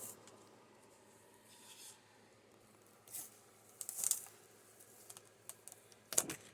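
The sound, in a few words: stickers being peeled off a sheet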